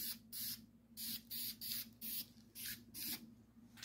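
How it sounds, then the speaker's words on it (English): A cheap aerosol spray can of primer, used as a guide coat on a 1951 Chevy body, hisses in six short bursts with brief gaps between them, fairly close and steady, with no talking. "just a cheap spray bomb of primer, and you just give it a light, like a duster"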